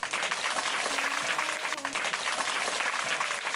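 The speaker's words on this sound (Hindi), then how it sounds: "तो बच्चों देखा आपने? बजाओ ताली।" Children clapping together after a magic trick in which a banknote vanishes, a steady dense patter of applause with a faint tonal hum running underneath.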